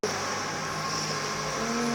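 A truck passing by on a road, a steady loud engine roar with broadband rumble that holds for the whole moment, close to the listener, with a rising tonal whine near the end and no talk.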